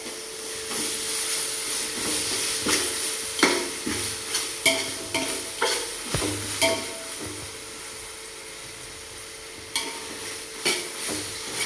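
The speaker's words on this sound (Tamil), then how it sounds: "இப்போது புதினா போட்டு நல்லா விதக்கணும்." Mint leaves are sautéed in hot oil with ginger-garlic paste for biryani: a continuous sizzle with repeated scraping and clanking strokes of a ladle against the pot, close and fairly loud, with no talk.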